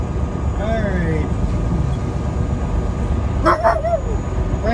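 Dog giving a few short yips and whimpering barks, fairly close, over a steady engine-like rumble at a truck unloading stop.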